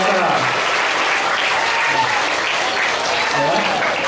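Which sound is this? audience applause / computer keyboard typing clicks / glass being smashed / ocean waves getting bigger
audience applause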